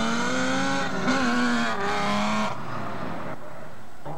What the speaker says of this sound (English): Today's open Autocross gave people a chance to race their own cars around a special course in the queue's parking lot there